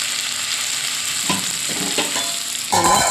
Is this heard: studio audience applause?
no